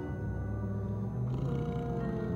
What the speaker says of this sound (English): It's a cougar.